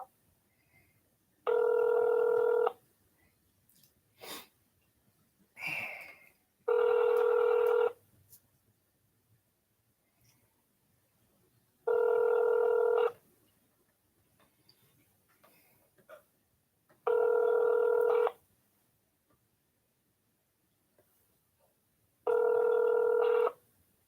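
Telephone tones sound while a call is transferred, five evenly spaced loud, steady electronic beeps about a second long each, alone on a quiet line with faint clicks between.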